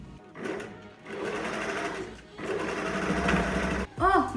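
A sewing machine stitches a top in long whirring bursts separated by short pauses, close and steady, and a voice speaks briefly right at the end.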